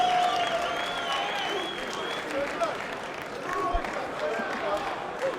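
A crowd at a BAMMA 12 MMA fight applauds and cheers in a large arena, a sustained wash of clapping and voices under a commentator talking throughout.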